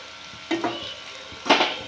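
Sesame seeds frying and being stirred in a pan for Korean potato bites, with two short bursts of sizzling and scraping set against a low, steady hiss.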